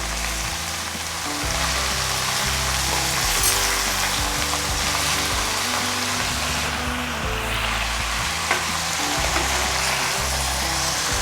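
Garlic fries in a pan with a dense, steady sizzle close up, while stirring adds soft scraping and rustling throughout; no voices are heard.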